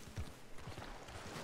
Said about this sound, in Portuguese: Olha o cavalo.